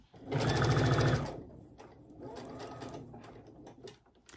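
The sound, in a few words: sewing machine stitching Tilda fabric quilt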